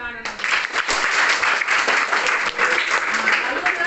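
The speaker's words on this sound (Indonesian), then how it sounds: "Oke, tepuk tangan." Audience applause at a children's activity session: dense, steady clapping from a group, loud and sustained for several seconds, with voices mixed in.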